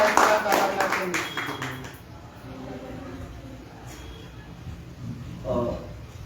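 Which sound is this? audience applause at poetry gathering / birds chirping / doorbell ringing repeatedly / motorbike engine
audience applause at poetry gathering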